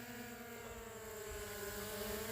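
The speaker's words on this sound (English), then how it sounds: "The drone is bobbing up and down." A DJI Air 2S drone hovers nearby in the open, its propellers giving a steady, continuous whine with stacked tonal harmonics that shift slightly in pitch as it bobs up and down.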